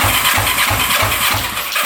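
A motorcycle engine cranking over with the throttle held fully open during a compression test, a loud, steady rhythmic chugging of about six even pulses, close up.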